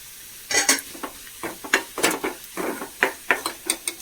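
Chili powder sizzles in a hot pan after the gas is switched off, while a spoon scrapes and clatters against the pan in quick, uneven bursts close by.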